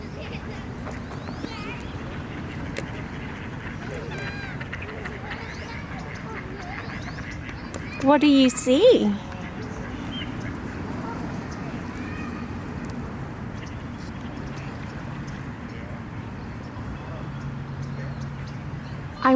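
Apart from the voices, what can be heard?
birds at a park, ducks quacking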